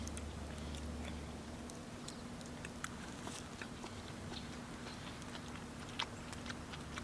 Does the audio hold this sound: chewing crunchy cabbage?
yes